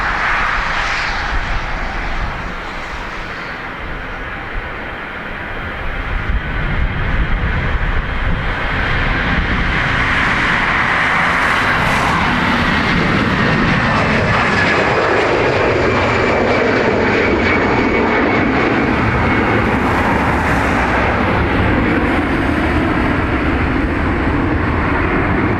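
A holiday flight leaves Dublin Airport bound for Lanzarote, its jet engines building into a loud, sustained roar that rises and stays powerful throughout.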